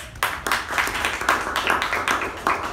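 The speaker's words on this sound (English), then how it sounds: "a big round of applause for the TAPG role takers" An audience at a Toastmasters club meeting claps for the meeting's role takers, a steady, fairly close round of hand claps lasting a few seconds with no talk over it.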